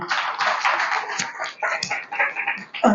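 A seminar audience applauds in Rajkot, Gujarat, and the dense clapping of many hands carries on for about three seconds, close and fairly loud, with uneven swells.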